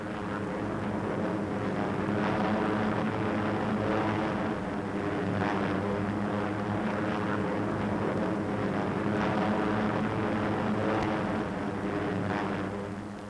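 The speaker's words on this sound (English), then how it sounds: "The bombers and fighters circled for grouping over Oro Bay." B-25 bombers and fighter aircraft circling in formation over Oro Bay, a continuous droning propeller-engine roar that swells and fades slightly, fairly loud with no voices.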